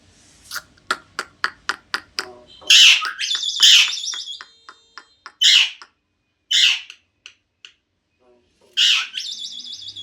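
A myna bird calls in a rapid series of sharp clicks, then gives loud squawks and chattering, speech-like phrases with pauses between, close and clear against a quiet background.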